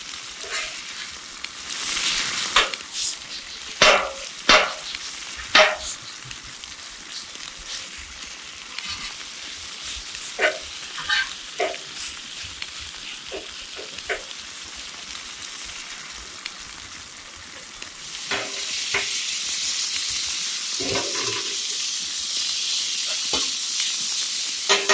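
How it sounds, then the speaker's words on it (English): Sliced Philly cheesesteak meat and vegetables fry on a hot surface with a continuous sizzle, punctuated by sharp chopping and scraping taps, the hiss swelling louder in the final seconds; no voices. "Spread them around, and we're going to chop it up a little bit more as they cook."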